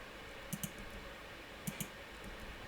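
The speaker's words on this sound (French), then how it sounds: "appuyer sur la touche Delete du clavier" Keys pressed on a computer keyboard while working in SketchUp, two quick pairs of light clicks about a second apart over a quiet background hiss.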